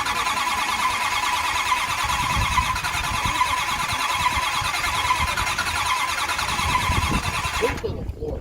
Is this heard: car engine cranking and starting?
yes